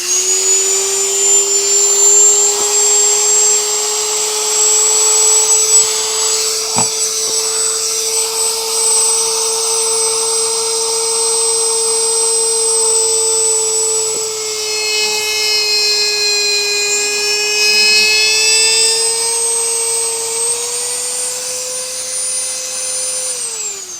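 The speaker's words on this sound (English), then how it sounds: "If I hold the Dremel tool just right, I might be able to get a straight cut." A Dremel rotary tool cuts through tile with a loud, steady high-pitched whine that holds for the whole stretch, its pitch dipping and shifting slightly as the bit bites into the material.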